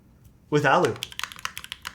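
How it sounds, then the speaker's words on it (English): Keystrokes on a Spectacle 80 top-mount mechanical keyboard with an aluminium plate, firm and close, a quick run of about a dozen clicky presses following a brief burst of voice at the start. "this is a very firm typing experience because it's top mount"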